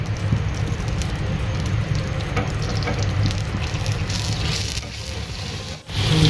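Cumin and garlic sizzle in hot mustard oil for a dal tadka: a loud, steady crackling fry that holds throughout, dipping briefly just before the end.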